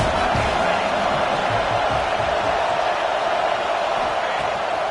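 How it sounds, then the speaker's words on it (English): Steady, dense stadium crowd roar from the NCAA 26 college football video game, a continuous wash of massed voices filling the whole stretch at high level with no clear break or standout cheer. "This crowd trying to make life miserable for this offense."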